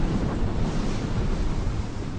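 Wind and rough, choppy sea around the OOCL Atlanta container ship, a steady loud roar of gusts and surf with no break.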